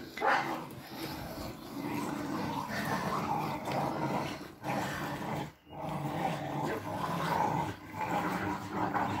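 Dog growling continuously and close up, a rough low rumble sustained across the clip with brief pauses, with no one speaking over it.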